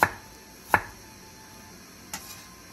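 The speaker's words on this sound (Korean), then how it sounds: "생강 한 톨을 편 썰어주세요." Kitchen knife slicing ginger on a cutting board: three sharp, quiet cuts, two close together and a softer one after a pause.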